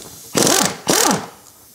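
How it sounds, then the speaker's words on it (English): Two sharp metallic hammer impacts on car brake caliper bolts ring out about half a second apart, each leaving a brief ringing tail, loud and close. "I'm going to use my hammer because it's going to be a bit tough to get them off."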